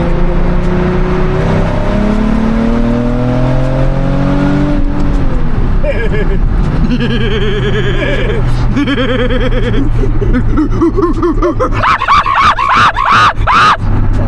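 Nissan 370Z Nismo engine revving hard while driving, loud rising and falling rev sweeps with gear-change drops, close in the cabin, with people shouting and laughing over it.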